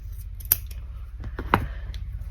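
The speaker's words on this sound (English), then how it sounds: "My scissors." Sharp scissors make two or three crisp snips as they cut into fabric trim along the notched edge of a handmade pouch, close and clear in a quiet room.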